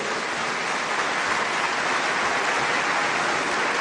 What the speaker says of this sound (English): Ladies and gentlemen, he's yours for the applause.